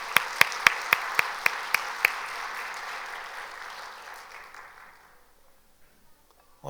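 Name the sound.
congregation applauding the choir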